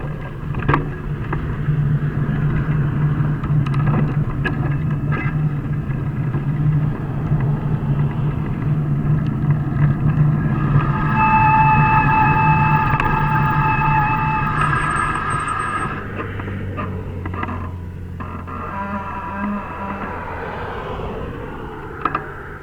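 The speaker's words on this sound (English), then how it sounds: "Cars are moving pretty fast here." Cars speed past on a 100 km/h road, one building to a loud roaring pass before fading, with steady traffic noise before and after and no talk.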